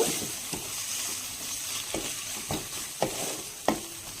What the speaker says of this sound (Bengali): এবার মশলাটাকে হালকাভাবে ভেজে নিব